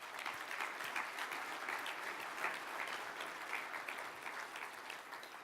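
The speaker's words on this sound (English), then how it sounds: "Let's give them all a round of applause." An audience at a technology event applauds in a continuous, even wash of clapping that holds steady throughout and sounds somewhat distant.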